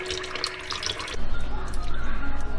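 Raw small shrimp being rinsed clean under running kitchen water, a steady close splashing stream that starts partway through and then continues without a break.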